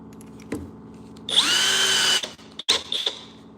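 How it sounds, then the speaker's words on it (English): A power drill boring a 1/4 inch hole, heard as a loud, steady whine about a second long that stops sharply, followed by a short second burst and some tool handling. "So we're gonna drill a 1/4 inch hole"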